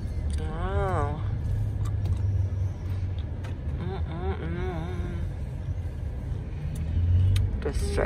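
A car rolls through downtown Los Angeles with a steady low engine and road rumble heard from inside, while people talk and laugh over it for much of the time.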